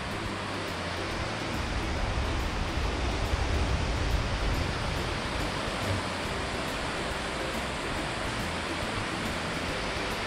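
Sea waves washing onto a beach on Côn Đảo island, a steady broad roar of surf that stays loud and constant with no voices.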